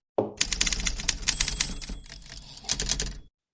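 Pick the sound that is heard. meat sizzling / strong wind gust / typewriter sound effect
typewriter sound effect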